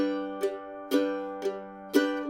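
A mandolin plays a boom-chuck strum pattern: four even, ringing strums alternate between a low bass note and a chord chop, each with a bright attack. The mandolin plays alone, close and clear.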